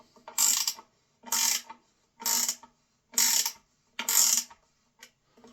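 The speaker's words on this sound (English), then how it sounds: "now I'm going to tighten that up, and it'll pull itself in as we're tightening it." A 10mm ratcheting wrench tightens a Gotoh UPT tuner nut on a ukulele headstock, giving five evenly spaced close ratchet bursts with silent pauses between them, then a faint final click.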